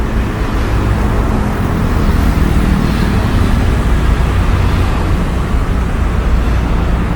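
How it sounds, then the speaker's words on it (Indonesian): Passing vehicles give a loud, continuous low rumble that stays steady throughout, close and dense, with no voices over it. "Nah, gemuruh-gemuruhnya kendaraan yang melintas."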